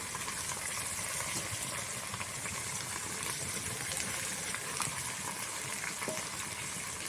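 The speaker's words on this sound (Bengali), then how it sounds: "উনানের জাল কিন্তু খুব আস্তে দিয়ে আমি মাংসটাকে ভালো করে কিছুক্ষণ ধরে কষিয়ে নেব।" Spiced chicken pieces, with chopped tomato just added, cook slowly in a pan over very low heat, producing a continuous soft hiss and sizzle with faint crackles. The level stays even throughout and no one speaks.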